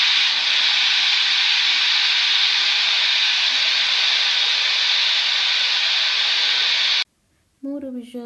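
A pressure cooker on the stove, cooking a mashed turkey berry relish, lets out a long, loud, steady steam whistle and hiss, then cuts off sharply, followed by someone speaking.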